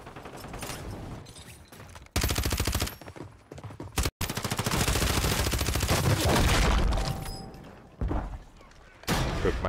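Gunfire in the video game Warzone: loud, close bursts of rapid automatic fire in several long strings, with short pauses and a few sharp single shots between them.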